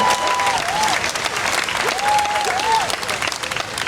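An audience at an outdoor anti-hate rally gives a speaker a sustained round of applause, steady dense clapping with a few scattered voices and whistles mixed in.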